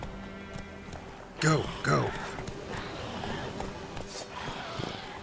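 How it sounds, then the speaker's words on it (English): Hooves of the horse Roach gallop in The Witcher 3, a quick clip-clop rhythm running close by while someone speaks over it. "Watch out, my horse will run me over."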